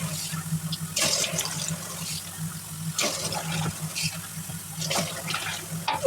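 Water pours into a pot for a stuffed-pepper sauce in a home kitchen, a close splashing gush that swells and eases in a few surges, with faint kitchen clatter and no talking.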